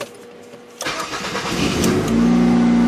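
A 2007 Ford Fusion derby car cranks briefly and fires up, then settles into a loud, steady idle close by, with no talking.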